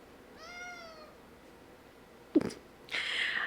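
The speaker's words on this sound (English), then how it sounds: "This cat is so needy." A house cat lets out a clear drawn-out meow, followed by a few quieter rustling and shuffling noises nearby.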